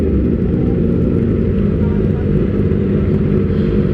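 Several Kawasaki ZX25R motorcycles fitted with Austin Racing exhausts, about six bikes, rumble together in a loud, steady, deep drone close by, the idling engines blending into one continuous roar.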